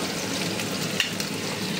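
Food sizzling in oil in a pan during home cooking, nearly fried through; a steady, close, dense crackle continues throughout with a couple of faint clinks and no voices.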